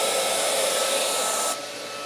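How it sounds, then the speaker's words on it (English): An Origin portable CNC router spindle and its dust vacuum run together in a loud, steady, high whirring rush; the sound drops noticeably to a quieter level after about a second and a half. "Spindle on, vacuum on,"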